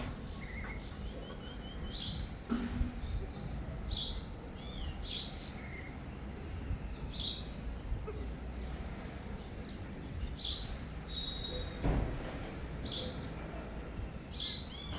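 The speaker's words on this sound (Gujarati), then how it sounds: "પક્ષીઓ જાગી ગયા છે અને એનો મીઠો અવાજ અને શાંત વાતાવરણ." Village birds chirping at about six in the early morning in rural Gujarat, with short, bright calls repeating every second or two over a quiet background and a faint steady insect-like hum.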